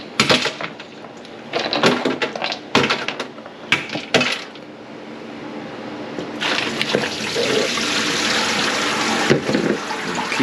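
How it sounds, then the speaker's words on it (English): Pickles are rinsed under running water, with clattering handling noises early on, then a steady, close stream of tap water splashing. "Keep rinsing those really well."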